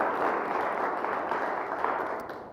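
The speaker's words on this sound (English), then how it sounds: "So please, round of applause saying thank you, thank you, thank you, thank you." An audience at a community conference and dialogue applauds in a steady, dense wash of clapping that holds at an even level for the whole stretch, with no voices over it.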